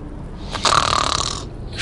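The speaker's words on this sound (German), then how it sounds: "Schnarch" A single drawn-out snore from the video game Portal 2, a rasping inhaled rattle that swells and fades over about a second, heard alone over a low background hum.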